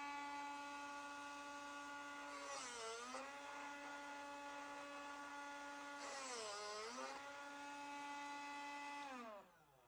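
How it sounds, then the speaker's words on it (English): A Drill Doctor 750X bit sharpener whines steadily as it splits the point of a drill bit, with two dipping grinding passes before the motor cuts off at the end. "If you want, you can now split the point of the bit."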